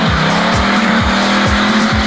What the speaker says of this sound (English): the V8 exhales through a Borla high-flow exhaust system.